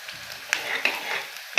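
Gram flour (besan) roasting in oil in a pan gives a soft, steady sizzle with light scraping stirs and occasional brief clicks, fairly close and without any talk.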